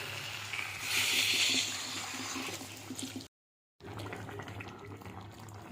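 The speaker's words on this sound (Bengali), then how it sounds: "এবার জল দিয়ে দেবো।" Water poured into a vegetable curry in a pan makes a steady rushing, splashing pour that swells then continues after a brief cut, close and moderately loud.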